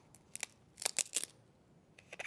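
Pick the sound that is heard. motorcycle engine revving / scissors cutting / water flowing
scissors cutting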